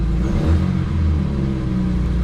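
A BMW E12 engine revving on its first real drive after restoration, a steady, smooth mid-pitched rumble held close and loud throughout with slight swells in engine speed.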